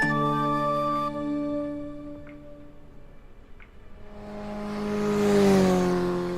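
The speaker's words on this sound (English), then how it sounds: "how difficult it was to find a good passing motorcycle sound effect" A passing motorcycle sound effect in a stream raid animation: a steady engine drone fades, then a rising, swelling roar sweeps past close by before tailing off.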